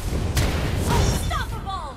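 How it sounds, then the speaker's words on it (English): A turret being destroyed in the video game Smite, heard as a loud booming blast with a burst of crackling impact noise, with a voice and game effects over it. "Your team destroyed the turret!"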